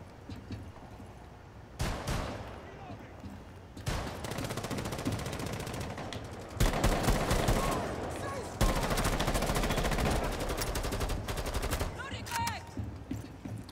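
Automatic rifle fire crackles in bursts during a bomb-defusal round of the video game Rainbow Six Siege. Volleys grow louder and denser, with players talking over the shooting.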